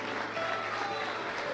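A church congregation applauds in praise, a dense, steady wash of many hands clapping together, moderately loud and sustained throughout with a faint murmur of voices beneath.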